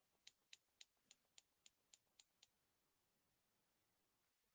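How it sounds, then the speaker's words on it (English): A clothespin snapping open and closed, giving nine quiet, evenly spaced sharp clicks in a steady rhythm, followed by silence and then a faint knock at the very end. "It's clothespin opening and closing."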